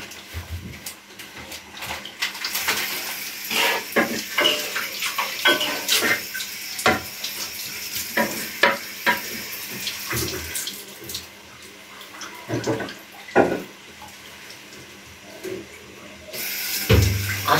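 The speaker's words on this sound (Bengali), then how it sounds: "আমি এখন প্লেটগুলো নিয়ে এখন ধোবো।" Plates are washed under a running kitchen tap, with steady streaming water and intermittent close clinks and splashes as the dishes are handled.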